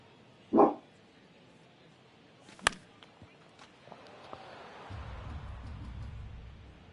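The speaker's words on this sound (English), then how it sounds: "Are we done barking?" A dog gives one short, loud bark near the start, then only soft scattered taps and a low rumble. No one speaks while it happens.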